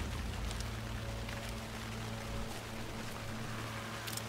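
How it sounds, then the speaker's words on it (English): Steady rain falling in the video game Alan Wake 2, a continuous dense hiss with a low rumbling bed, heard on its own without voices. "Rain's starting to pick up, too."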